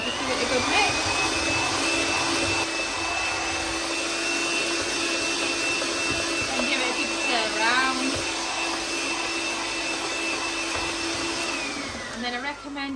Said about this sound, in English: And then just give it a good mix.